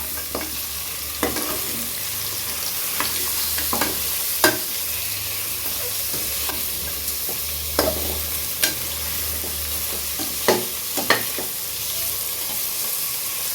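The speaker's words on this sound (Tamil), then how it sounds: "இந்த எண்ணெயிலே இந்த கறியை போட்டு வேக வச்சுன்னா கறி கரையாது" Mutton pieces fry in oil for a brinjal mutton curry, giving a steady close sizzle broken by repeated sharp clicks and scrapes of stirring, with no talk.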